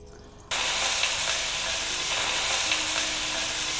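Two tablespoons of ghee heating in a pan before chicken goes in for a white biryani, a sharp hissing sizzle that starts abruptly after a quieter moment and holds steady with faint clicks, no talking.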